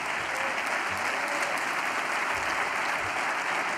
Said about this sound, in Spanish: Quiero darle las gracias y un fuerte aplauso a Álvaro García Linera